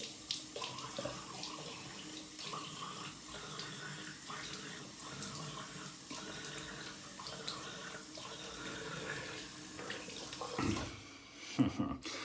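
Water runs steadily from a tap, a soft continuous splashing as cold water rinses a shaving brush, swelling briefly near the end.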